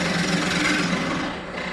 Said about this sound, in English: we drill a hole,